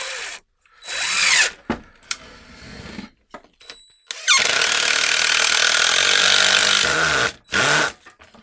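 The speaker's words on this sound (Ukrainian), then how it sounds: "І будемо крутити сучок." DEWALT impact driver with an impact clutch bit holder driving a screw into a wooden knot, loud close bursts of whirring and hammering that stop and start, with one long sustained run in the middle.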